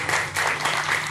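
An audience at a Bengali stage drama gives a performer a round of applause, a steady rush of clapping over a faint low hum from the hall.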